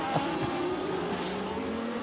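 Formula 1 cars launch from the start of the 1981 Brazilian Grand Prix on a wet track. A steady, dense engine roar holds throughout, with pitch lines slowly shifting.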